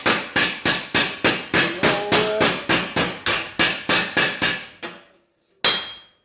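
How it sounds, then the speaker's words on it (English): Steady hammer blows roll a sheet metal edge over a dolly, about twenty sharp metallic strikes in an even rhythm, close and loud, then a short pause and one final ringing hit. "Just use the hammer."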